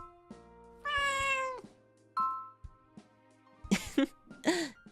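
A cat meows in a few short, clear calls, one long rising meow followed by brief quieter ones and a couple of throaty bursts, close and alone with no talking.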